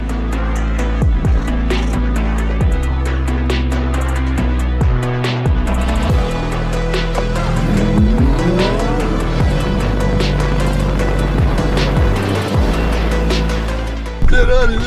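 A Ferrari rated at 570 horsepower drag racing an XPENG G9 in Baku: loud roaring engines with rising and falling revs, gear changes and tire squeal, close and intense, ending with a sharp burst.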